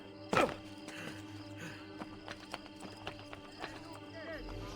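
Horse hooves clip-clop in the video game Assassin's Creed Brotherhood, opening with a sharp burst and a whinny, then scattered lighter hoof thuds and street ambience.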